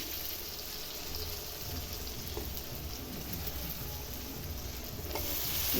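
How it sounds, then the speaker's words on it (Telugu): Raw banana pieces frying in a hot pan for curry, an even, rain-like sizzle held at a steady level with faint stirring knocks, growing slightly louder near the end, no talk. "ఇప్పుడు ఇందులోకి అరటికాయ తీసేసి"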